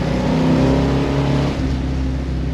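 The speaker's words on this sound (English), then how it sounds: "God, the sound of that V8." 1970 Dodge Challenger R/T with a 440 Six Pack V8 pulling under load, a loud, deep, steady engine rumble heard from inside the car with a slight dip in the middle.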